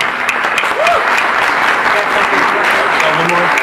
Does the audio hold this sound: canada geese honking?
no